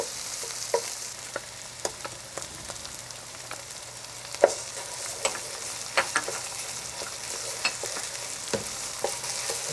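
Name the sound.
tomato paste stirred into sizzling Iranian vegetable stew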